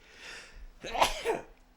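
A single person sneezes once, close and fairly loud, with a short inhale before it and a brief trailing sound, in an indoor setting.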